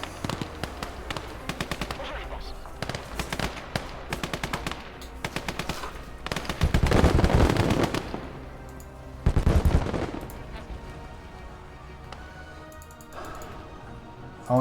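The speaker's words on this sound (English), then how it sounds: "Okay, we've got a fight on our hands now. We've got a firefight." Rapid machine-gun bursts and scattered rifle shots crackle through a firefight in the video game Motherland, with two heavier, louder volleys standing out midway over a constant battle din.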